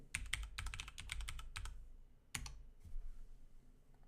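Typing on a computer keyboard while building a web login page, close rapid bursts of key clicks with short pauses between words, ending in a single louder keystroke and a few faint taps.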